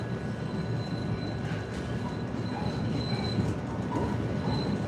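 A Chicago Green Line elevated train rounds a curve as its wheels squeal in thin, sustained tones over a steady low rumble of the car, heard from on board.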